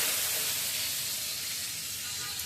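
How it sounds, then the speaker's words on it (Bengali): Spice paste thinned with water hits hot oil in a pan for a vegetarian curry, giving a loud, steady sizzle that hisses evenly throughout with no voices. "জল দিয়ে গুলে নিলাম, এবার ছেড়ে দিচ্ছি"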